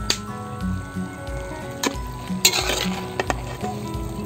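Sautéed sardine mix being stirred in a pan, a steady low sizzle with scattered metallic clinks and scrapes of a utensil against the pan, close and alone with no talk.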